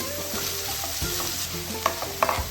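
Chopped onions with salt are stirred in a hot pan for Kerala-style kadala curry, a steady close sizzle broken by clacks and scrapes of a spoon, the last few knocks louder, with no speech.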